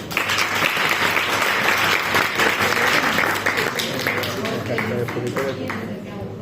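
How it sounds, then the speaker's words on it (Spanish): Audience applause fills the room after a student bacteriology presentation, steady dense clapping held at an even level throughout, with a few voices mixed in. "Muy bonito, un aplauso."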